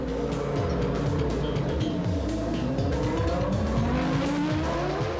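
A Stewart Ford Formula One race car runs on a Spanish circuit during winter testing, its engine note climbing and dropping repeatedly through gear changes, loud and continuous against a steady background roar with no talk.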